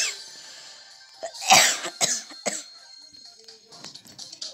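A person coughs a few times in quick succession, close and fairly loud, over faint video game sounds from Brawl Stars.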